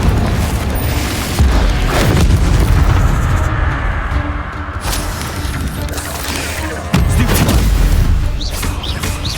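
Repeated Confringo fire-blast spells in the game Hogwarts Legacy, loud booming explosions and crackling bursts layered over continuous combat noise, with heavy impacts near the start and again later.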